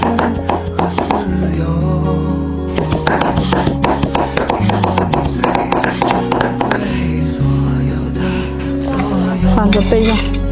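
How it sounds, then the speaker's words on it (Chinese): Two knives mince chili peppers on a board in a rapid, dense flurry of close chopping taps. The chopping continues without pause beneath steady background music. "两把刀剁快一点。"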